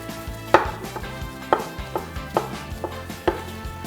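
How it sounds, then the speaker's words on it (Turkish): Steady knife chopping a tomato on a cutting board, a run of sharp taps at an irregular but brisk rhythm, close up with no talking. "bir domatesi de yanına doğramış oluyorum"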